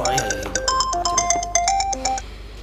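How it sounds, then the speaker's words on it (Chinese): A mobile phone rings with a bright melodic ringtone, a close, loud run of repeating electronic notes that stops after a few seconds. "我电话响了，等。"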